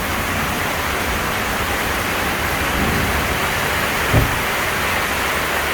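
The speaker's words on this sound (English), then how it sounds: "See what the rain situation's like." Steady rain pours down outdoors in Angeles City, Philippines, a dense continuous wash of noise with a little wind and one brief knock near the end.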